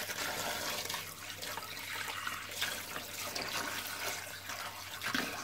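Water runs steadily from a tap while the inside of a freshly caught fish is rinsed clean of blood, a continuous broadband splashing rush with small surges and drips, close and fairly loud throughout.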